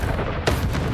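Bombarda spell explosion in the video game Hogwarts Legacy: a single short booming burst cutting through ongoing dense game ambience, loud and close.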